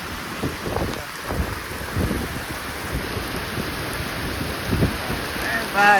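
Torrential rain drumming on a farm field, a constant dense roar with gusty low rumble, close and loud, with a faint brief squeak near the end.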